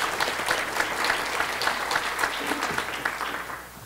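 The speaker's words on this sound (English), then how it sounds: "You may applaud that." Steady audience applause at a plenary session of a journalism and democracy conference, dense even clapping throughout that tapers slightly at the end.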